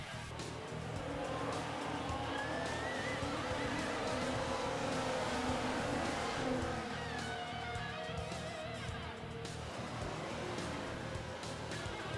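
F1 cars racing in F1 Manager 24 at the start of a race in Bahrain, a continuous blend of engine drone and passing cars at moderate distance, steady and unbroken throughout.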